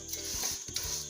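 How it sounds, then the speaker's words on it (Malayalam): Vermicelli fries in hot ghee in a pan while being stirred for semiya payasam, a quiet steady sizzle broken by a few soft scraping stirs. "നെയ്യ് ചൂടായി വരുമ്പോൾ നമ്മൾ മുറിച്ച് വെച്ചിരിക്കുന്ന സേമിയ ഇട്ട് കൊടുത്ത് നല്ലതുപോലെ വറുത്തെടുക്കാം"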